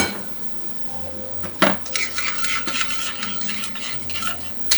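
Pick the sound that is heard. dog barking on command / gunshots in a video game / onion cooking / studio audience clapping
onion cooking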